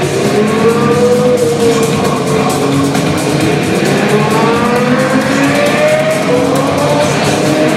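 A Lexus LFA supercar at an unveiling event in Johannesburg, its engine note loud and sustained, with rising and falling pitch sweeps like repeated revving that go on without a break.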